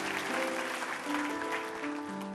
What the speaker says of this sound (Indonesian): Beri tepuk tangan untuk suara Anda yang merdu